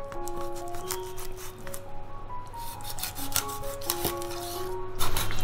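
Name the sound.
knife scoring the back of a white eel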